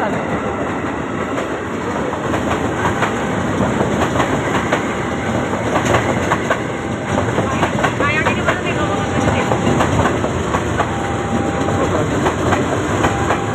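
A KRL commuter train from Angke rolls past steadily and loudly, with continuous rail rumble and clickety-clack of wheels over the track, a faint squeal in places, and voices talking nearby.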